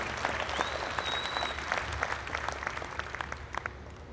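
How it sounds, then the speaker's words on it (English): Crowd at the 2015 All American Jersey cattle show applauds steadily, with many distinct hand claps layered into a continuous patter that persists through the moment. "Ladies and gentlemen, give him a round of applause for his assistance here today."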